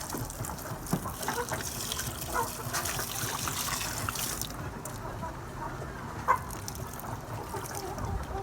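Bucket of water poured to wet a housefly maggot culture, a continuous soft gushing and trickling splash lasting throughout, close and fairly quiet with some small knocks and clatters.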